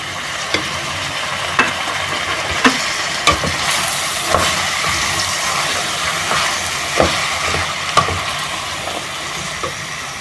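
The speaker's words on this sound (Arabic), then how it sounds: "غادي نخليها تشحر مزيان هاد الخضره" Broccoli and other vegetables for soup sauté in a pan, giving a steady loud sizzle broken by regular clacks of stirring about once a second.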